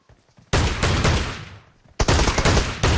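Close, loud bursts of shotgun fire from an M1014 in PUBG Mobile: a short volley, a brief lull that fades, then another dense burst of rapid shots.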